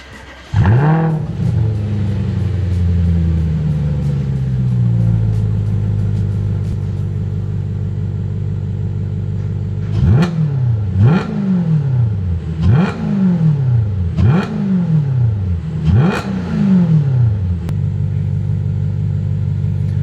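A B8 Audi RS4 with a custom valved exhaust, valves closed, cranks and fires into a deep burbling idle, then after a pause gives five sharp throttle blips that rise and fall in quick succession.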